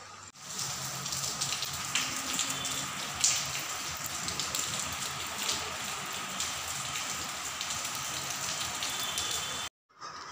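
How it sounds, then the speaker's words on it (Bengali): Heavy monsoon rain pours down steadily and densely on a rooftop, with a continuous close hiss and scattered louder drops, then cuts off briefly near the end. "বৃষ্টি আর থামতাছেই না, এত বৃষ্টি এত বৃষ্টি"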